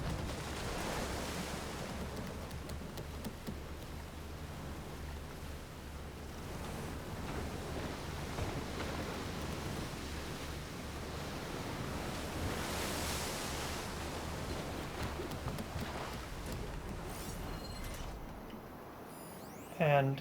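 Calm ocean water in the game Horizon Burning Shores washes in a soft, steady surf hiss with gentle swells, faint wind mixed in, and a brief bump near the end.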